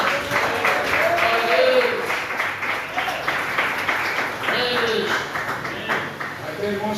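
A church congregation claps at length during a sermon, with cheering and raised voices sounding through the steady, dense applause in a large, reverberant room.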